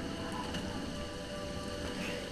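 Steady, even hiss of rain falling in the video game Oblivion, continuous and moderately loud with no pauses and no voices.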